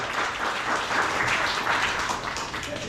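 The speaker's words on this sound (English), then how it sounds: "You were clapping for me, right?" A small group of people clap steadily and evenly throughout, a continuous dense patter of applause with no voices over it.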